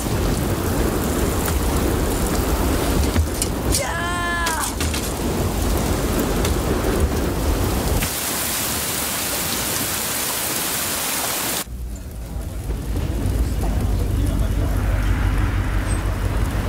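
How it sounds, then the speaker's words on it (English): Heavy rain pours steadily through a severe thunderstorm with a loud roar of thunder and gusting wind, the downpour dense and constant, plus a brief whine midway. "Severe thunderstorm warnings for eastern Howard County."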